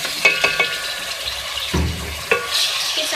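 About 250 grams of beef mince going into a hot pan with black peppercorns, giving a soft sizzle with a few sharp scraping and stirring knocks, close and fairly quiet.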